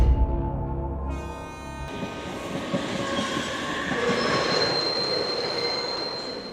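A passenger train in a station setting for a Hindi story, with a brief horn-like tone at the start followed by steady rolling rail noise and faint wheel squeal continuing loudly throughout, with no talk.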